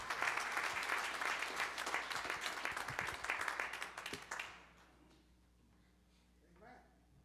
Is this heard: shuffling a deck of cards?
no